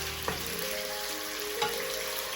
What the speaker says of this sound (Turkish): Mühürlenmesi için kızgın yağda önceden pişirmemiz gerekiyor.